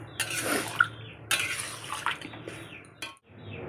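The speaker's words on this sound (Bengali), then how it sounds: "এবারে আস্তে করে নেড়ে ঢেকে দেব।" A spoon stirs potato curry in a cooking pot with warm water just added, giving scraping, clinking strokes, a couple of short bursts, and then a brief metallic knock as the pot is covered, close and fairly quiet.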